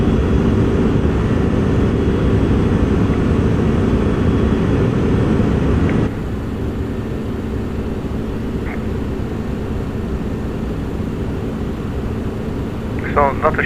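Steady, loud drone of the MD-11F cargo jet's engines in Microsoft Flight Simulator during the climb, a constant broadband roar that drops slightly in level partway through.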